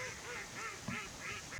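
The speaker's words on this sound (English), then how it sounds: "Among the mallards were northern shovelers, northern pintails, and green-winged teals." A flock of dabbling ducks, including mallards, northern shovelers, northern pintails and green-winged teals, gives repeated quacks in loose rhythm at moderate distance over a faint outdoor background.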